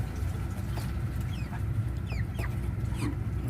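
A flock of about forty ducks is fed, with a constant low babble of feeding sounds and several quick chirping and quacking calls rising above it, close by and with no talking.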